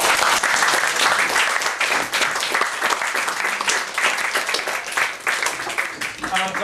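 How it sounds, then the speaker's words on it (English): A full, dense burst of applause comes from an audience of nearly fifty people at an evening event, loud and sustained for the whole stretch with a few cheers mixed in. "Can we have a big round of applause for Max?"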